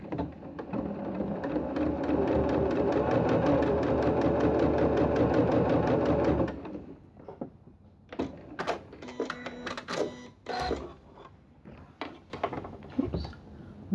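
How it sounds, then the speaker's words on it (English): A sewing machine running a straight stitch with a twin needle, a steady rapid mechanical whirr for about six seconds, then it stops and quieter handling clicks and rustles follow. "Let's have a look how they sew."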